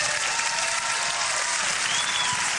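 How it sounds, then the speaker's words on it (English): Sustained audience applause at a live podcast show, a thick, even roar of many people clapping together without pause. "One of you applauds, we all applaud."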